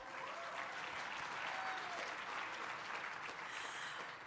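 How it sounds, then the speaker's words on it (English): Steady, sustained applause from a large crowd at a CPAC Colorado panel discussion, dense clapping filling the whole stretch without pause. "Oh, you can go applaud for him. Applaud for him."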